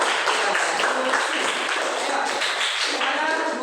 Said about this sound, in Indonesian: tepuk tangan buat Bro ketiga